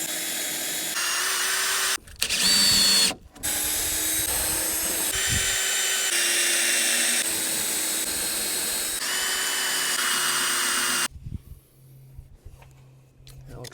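A power drill drives screws through tin sheeting on a mobile chicken shelter, with several loud whirring bursts of varying pitch separated by brief gaps, then the drill stops and quieter clatter follows.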